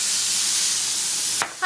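Steak fries in a hot pan with a loud, steady hiss and sizzle close by, broken near the end by a brief clatter and a short tonal beep.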